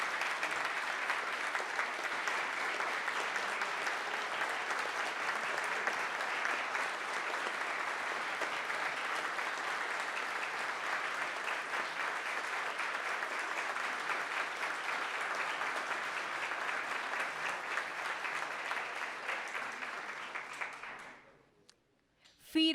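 A crowd at a government cabinet swearing-in ceremony gives long, strong applause, a dense, even clapping that holds steady for about twenty seconds before fading out abruptly near the end.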